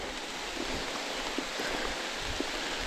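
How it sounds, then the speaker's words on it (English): Rain falls on the Appalachian Trail in Maine, a steady hiss of drops with scattered louder patters on nearby surfaces, continuous and close, with no talking. "Couldn't outrun the rain."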